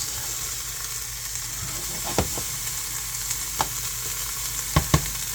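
Onions sizzle steadily in a skillet, with a soft continuous fry and a few sharp clicks and pops near the end; no talking.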